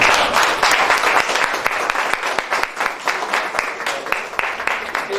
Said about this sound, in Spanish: el aplauso de ustedes